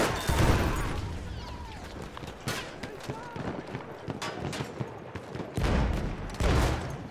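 Shotgun fire from the Trench Gun in Battlefield 1, several sharp booming blasts spread across a few seconds amid ongoing battle noise, with the heaviest shots near the start and end.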